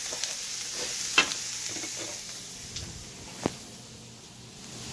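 Coconut oil sizzles steadily in a pan while a mushroom burger cooks, a constant close hiss broken by a few sharp pops and crackles.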